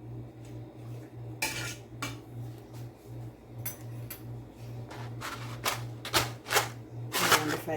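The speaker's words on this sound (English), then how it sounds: "Give it a little stir." Spaghetti stirred in a pot produces irregular metallic clinks and scrapes of a utensil against the pot over a steady low hum, close by and with no talk.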